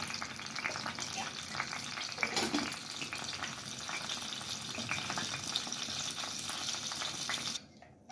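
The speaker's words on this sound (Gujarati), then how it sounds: "તેલની અંદર રાઈ એડ કરીશું." Mustard seeds crackle and sizzle steadily in hot oil as a tempering for chutney, a close, dense frying hiss with small pops that stops abruptly near the end.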